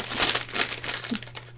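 A rapid crinkle and rustle of A7 white paper envelopes being handled, close and brief, with soft papery scrapes over a faint low hum.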